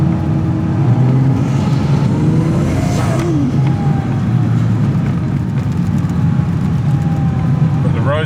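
Mazda RX8 fitted with a swapped 1JZ-GTE VVT-i engine and a big turbo running about 1.5 bar, driving on city roads in Pattaya, Thailand. Loud engine drone with a sharp whooshing boost release partway through, while traffic rumbles nearby.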